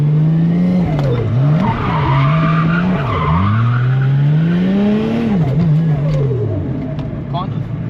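Car doing a handbrake skid around a cone, tyres squealing loudly in long sweeping pitch bends over a steady engine drone, continuous and close for about eight seconds.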